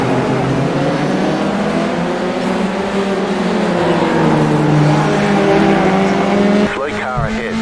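Formula 3 race car at Long Beach in the iRacing simulator, engine accelerating: a loud, continuous engine whine climbing in pitch through the gears, with a brief break near the end, a voice talking over it.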